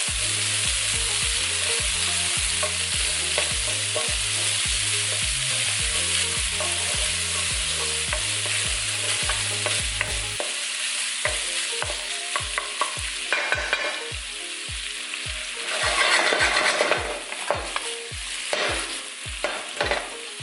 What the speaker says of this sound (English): While your panchetta is cooking